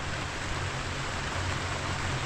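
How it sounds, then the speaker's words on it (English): Light drizzle falls at a remote West Virginia campsite, a soft, even hiss of fine raindrops pattering on surfaces, steady and unbroken with no voices. "Still got some drizzle"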